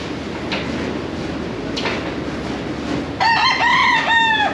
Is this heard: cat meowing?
no